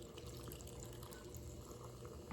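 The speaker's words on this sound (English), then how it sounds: "pouring my beverage." A beverage being poured during a meal, a soft continuous stream of liquid at low level, steady for a couple of seconds with no talking.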